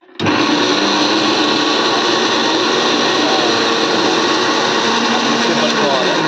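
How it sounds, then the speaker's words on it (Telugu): An old mixie grinder, about twenty-five years in use, blends masala for Andhra-style fish pulusu with a steady, loud motor whine that starts suddenly and runs unbroken throughout. "ఆల్రెడీ పేసినవన్నిటిని మిక్సీ పడుతుంది మా అమ్మ"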